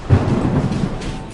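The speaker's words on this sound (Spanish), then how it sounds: "los truenos aparecían casi a la vez que los relámpagos" Thunder from lightning inside a volcanic ash cloud rumbles low and heavy, swelling early and then rolling on in a continuous grumble before easing off.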